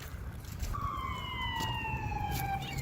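An emergency vehicle siren in Montreal wails with a steady, slowly falling pitch, cutting in after a moment and holding over continuous traffic rumble, fairly close.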